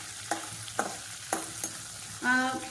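Mustard seeds crackle in hot oil while an onion thokku is cooked, with several sharp separate pops spaced about half a second apart, then a louder burst of sizzling near the end.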